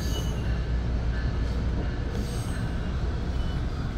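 An Exo commuter train on the Candiac Line passes in the opposite direction, a steady, loud rail rumble with wheel noise that holds without break for the whole stretch, with no voices.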